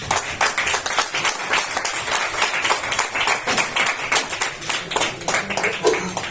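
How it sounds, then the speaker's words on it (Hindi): A seated audience claps together on request at a talk, a steady, rhythmic patter of many hands at moderate loudness that continues for several seconds. "एक बार जोरदार तालियां बजाइए आप लोग"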